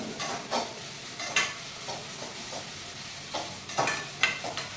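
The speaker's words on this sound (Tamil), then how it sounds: "இது கொஞ்சம் வதங்கணும்." Onions and spices sizzle and are stirred in a hot pan, with intermittent scraping bursts over a steady frying crackle, close and moderately loud.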